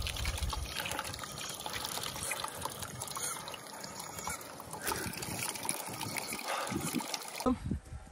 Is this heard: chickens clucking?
no